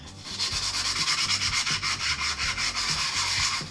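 Sandpaper rubbing steadily against a piece of cow bone in a quick back-and-forth rhythm, close and continuous, with no talking.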